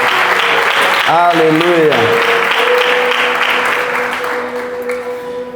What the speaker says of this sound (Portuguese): Então aplauda ao Senhor por vocês mesmos, por essa igreja